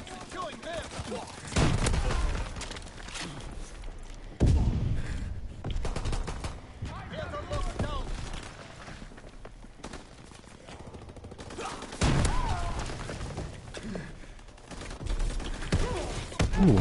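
Shotgun blasts in the World War II shooter game Call of Duty WWII, a few loud booming shots spaced several seconds apart amid battle noise and game voice lines.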